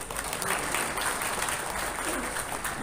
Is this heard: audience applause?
yes